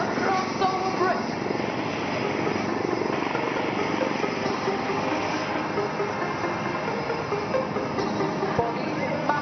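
Sarang display team helicopters fly a crossover bridge manoeuvre at the Aero India 2021 air show, a loud, sustained rotor and engine drone over open air with voices mixed in.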